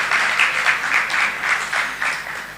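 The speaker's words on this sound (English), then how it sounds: "make it a round of applause" A conference audience claps in a slow, rhythmic unison pattern, about ten distinct swells of clapping pulsing evenly and loudly, close and unaccompanied by speech.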